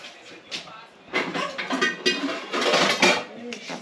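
A cooking pan clatters in a home kitchen while a typical Angolan dish of funge, fried collard greens and grilled fish is prepared, with several metallic knocks and scrapes close by amid faint background noise.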